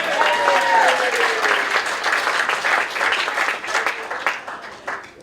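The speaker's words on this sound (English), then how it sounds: "Give them a round of applause." A comedy show audience applauds steadily throughout, dense clapping with some cheering, loud and sustained, tapering slightly toward the end.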